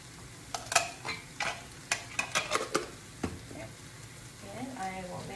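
Chopped peanuts get stirred into pad thai in a pan: a run of sharp scraping and clattering strokes over a soft sizzle, spaced irregularly, then a quieter sizzling stretch at the end.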